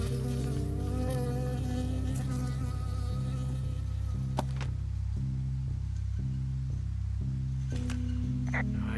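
A bee buzzes through a woodland scene in the game Firewatch, a steady insect drone layered over a looping low musical pattern, continuous across the whole stretch with no voices.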